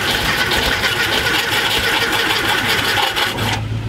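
Long-idle Volkswagen Thing Type 181 engine turning over on the starter with spark and fuel but suspected low compression in one cylinder, a loud, continuous rough churning that stops abruptly near the end.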